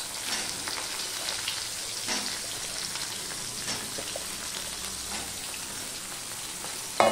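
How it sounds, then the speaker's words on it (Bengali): Soya chunks fry in oil in a wok over medium heat, a continuous crackling sizzle with light spattering pops, fairly close, ending in a brief sharp knock. "এবার সয়াবিনটাকে আমি মিডিয়াম রেখে আমি ভেজে নেব"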